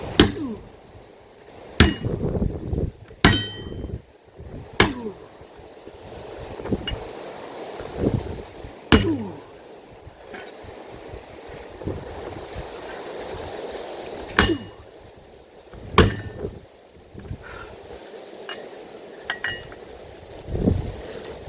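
Metal hammering rings out at irregular intervals during repair of a broken-down K-700 tractor outdoors, sharp clanging strikes scattered among wind noise.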